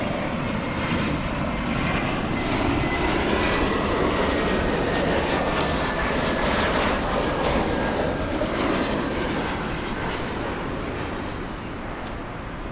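An Air India-operated Vistara jet airliner roars steadily at Frankfurt airport, its loud engines holding a sustained whine and rumble across the whole stretch before easing slightly toward the end.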